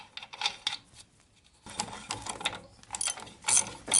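Ratchet wrench tightening a new front brake drum, several bursts of quick metallic clicking with short pauses between them, close by.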